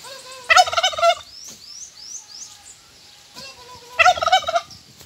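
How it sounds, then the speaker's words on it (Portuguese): A male turkey, feathers fully puffed up, gobbles twice in loud close bursts of rapid warbling, separated by a quieter gap with faint chirps from other birds in the flock. "esse peru macho aqui todo aberto, cantando."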